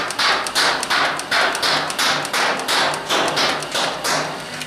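A NERF N-Strike Elite Rapidstrike blaster fires full-auto in a quick string of about ten sharp, thumping shots, each with a brief mechanical whir. The bursts are close and fairly loud, with no talking.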